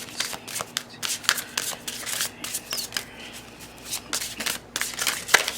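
Tarot and oracle cards being shuffled in a run of crisp, rapid riffling bursts with short pauses between them, close and fairly quiet, with no talking.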